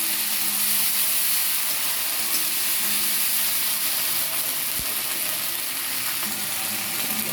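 Ginger garlic paste frying with onions in a pan gives a soft, continuous sizzle and hiss, with an occasional faint clack of a utensil against the pan.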